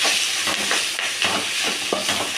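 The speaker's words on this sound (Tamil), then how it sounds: "இப்போ நல்லா வணக்கி எடுத்துக்கலாம்" Drumstick-leaf chutney mixture with salt being sautéed and stirred in a pan: a continuous loud frying hiss with repeated soft spatula scrapes at an uneven pace, close up.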